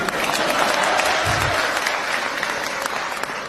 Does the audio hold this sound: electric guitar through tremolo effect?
no